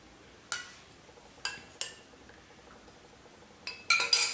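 A spoon clinks against a bowl while lemon juice and water are mixed, a few sharp, separate taps spaced across quiet gaps, then a quick cluster of clinks at the end.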